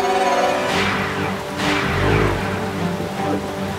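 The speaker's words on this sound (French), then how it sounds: "Oh non! Une tempête approche." Rainstorm approaching a farm, with steady loud rain noise, low rumbling swells like distant thunder, and a brief faint voice mixed in.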